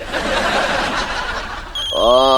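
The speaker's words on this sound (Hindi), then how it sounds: "देखो घंटी भी बज रही" A telephone rings briefly at the end, entering with a rising electronic trill after a stretch of people talking and laughing in an indoor comedy scene.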